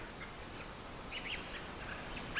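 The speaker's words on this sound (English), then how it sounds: "Well, there's a whole flock of robins here." A flock of wintering robins calls from trees along a hiking trail, with scattered faint chirps and calls over steady outdoor background noise.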